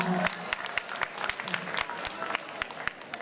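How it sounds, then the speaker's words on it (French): An audience at a closing event claps for a charity volunteer, with distinct individual hand claps standing out over a lively crowd and a voice talking over the start. "On peut l'applaudir à Michel pour les Restos du Cœur, s'il vous plaît, applaudissements."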